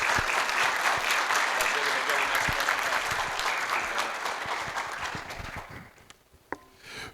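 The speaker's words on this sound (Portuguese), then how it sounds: "Uma salva de palmas." Audience applause fills a lecture hall at a talk on Six Sigma and governance as a speaker is introduced, a dense sustained clapping that gradually thins and fades out near the end.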